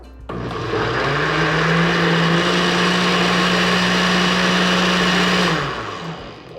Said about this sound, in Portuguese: E aí agora a gente vai tampar o liquidificador e bater bem.